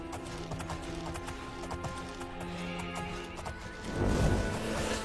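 Horse hooves clip-clop at a steady trot in the fantasy game Oblivion, fairly close, over a low ambient music bed that swells louder near the end.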